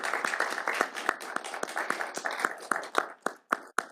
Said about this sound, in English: Round of applause for Essex Porter.